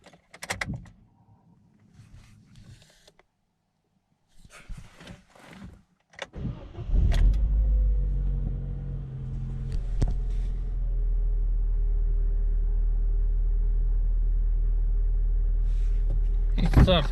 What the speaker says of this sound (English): Now the engine is ready to be started up.